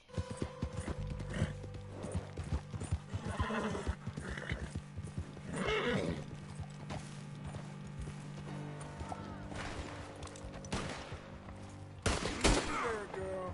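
Horse in the Red Dead Redemption 2 video game, with clip-clopping hooves, several loud whinnies and bursts of gunfire mixed in, close and busy.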